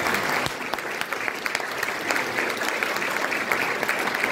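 An audience at a medical conference applauds steadily, a dense, close wash of clapping hands that holds at an even level throughout without pause.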